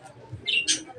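Brief pigeon calls close by: a low soft coo followed by two quick, higher chirping notes, over a quiet background.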